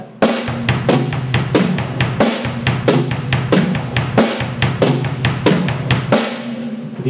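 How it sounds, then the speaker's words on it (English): Flams struck on a drum kit during a beginner drum lesson, a steady run of loud, close hits, each a grace note crowding a main stroke, repeating about twice a second with ringing decay between them. "These are flams, okay?"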